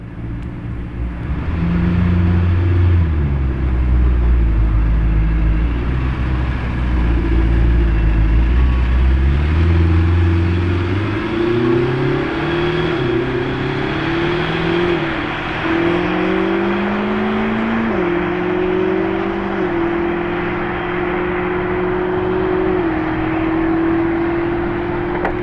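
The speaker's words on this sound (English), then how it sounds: "definitely the loudest Temerario I've ever heard" A Lamborghini Temerario hybrid revs and accelerates loudly, the engine note climbing through several stepped rises and gear changes into a sustained high roar, heard near and continuous with no speech.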